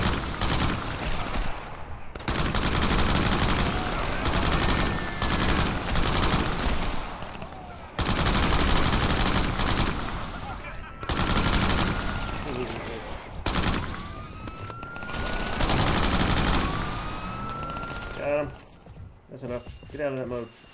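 Sniper rifle fire in the Crackdown video game on Xbox 360, with repeated loud shots and dense in-game gunfire running throughout, mixed with game sounds and voices.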